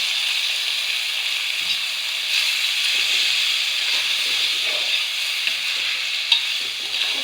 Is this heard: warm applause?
no